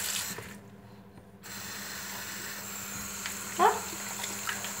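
Running water splashes steadily as a horse halter is rinsed under a tap, a continuous close hiss with small clatters near the end and a brief spoken interjection.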